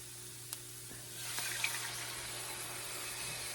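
Milk pours into a pan of cooked, light golden all-purpose flour roux, a faint steady liquid rush with a soft sizzle that swells after a brief quiet start and holds to the end.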